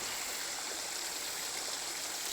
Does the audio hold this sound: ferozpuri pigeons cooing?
no